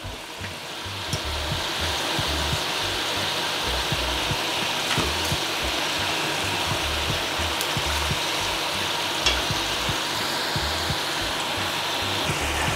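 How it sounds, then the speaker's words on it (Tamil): Potato and chicken patties deep fry in hot oil with a steady, close, continuous sizzle and occasional small pops throughout. "ரெண்டு பக்கமும் திருப்பி திருப்பி விட்டு பொன்னிறமாக வர பொறித்து எடுத்தால் சரி"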